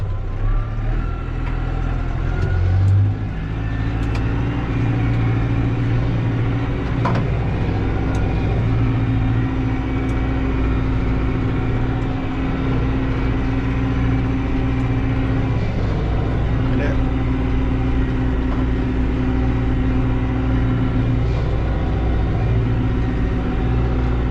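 A Massey Ferguson 5430 tractor engine drones steadily and loudly while pulling an 11-tine chisel plow through a field, a continuous close rumble with shifting tones, and someone speaks over it.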